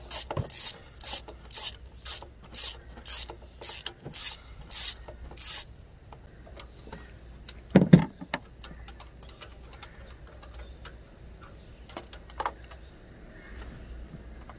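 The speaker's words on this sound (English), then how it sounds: "Go ahead and loosen your plug up." A ratchet loosens a spark plug on a 2.4-litre Jeep engine through a 10-inch extension, giving a quick run of about a dozen sharp, close clicks, then quieter scattered clicks and faint handling noise.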